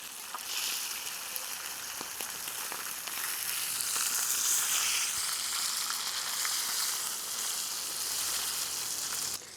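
A large tilapia fries in a pan of oil, giving a continuous, bright crackling sizzle that stays steady and fairly close throughout with occasional pops.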